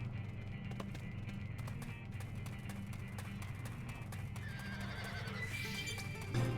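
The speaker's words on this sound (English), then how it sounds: "They even make the horse noises." A horse in the video game Xenoblade Chronicles X whinnies near the end, over constant game ambience with light hoof clip-clops. The sound is quiet and ends with a brief rising neigh.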